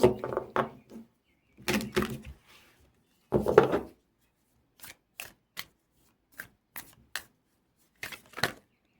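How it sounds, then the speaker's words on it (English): A tarot card deck being shuffled by hand in bursts: several short riffling, papery rustles followed by quieter, sparse card snaps and taps, close and with no talk. "So let's just shuffle this really quickly."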